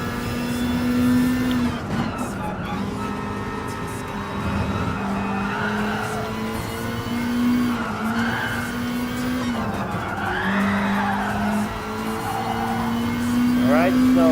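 A Subaru WRX Group B rally car in Gran Turismo Sport drones steadily at close range, its engine note rising and falling through gear changes, with tire noise and voice talk over it throughout.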